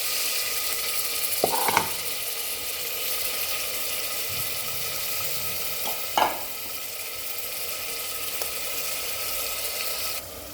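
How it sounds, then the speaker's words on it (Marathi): Mutton and onion frying in oil in a pan, a steady low sizzle with two brief clanks of a utensil stirring near the start and middle. "कांदा टाकून घ्यावे आता मटण बी टाकून घेतो लगेच"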